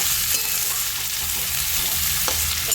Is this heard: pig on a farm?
no